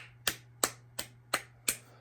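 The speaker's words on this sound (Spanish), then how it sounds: "Un aplauso para José Enrique Pablo." Five sharp, evenly spaced hand claps at a class session, close and dry, each a crisp isolated burst with a steady low hum underneath.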